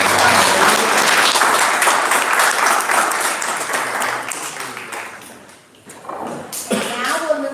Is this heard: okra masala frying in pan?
no